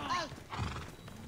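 A horse in Assassin's Creed Odyssey whinnies with a shrill descending neigh, close and clear, followed by soft low snorting.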